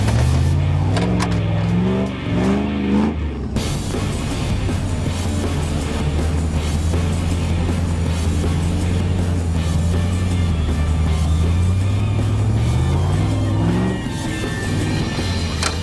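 Land Rover four-wheel drive engine under way, a loud continuous drone that rises and falls briefly at the start, then holds a steady pitch before climbing again near the end.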